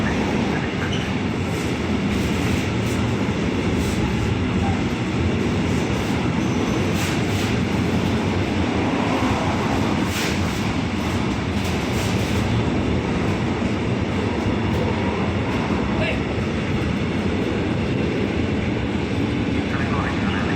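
A train rumbles steadily into Milan Lambrate railway station, a loud, continuous roar of wheels and carriages with rattling, clattering bursts, while a platform announcement plays over the din.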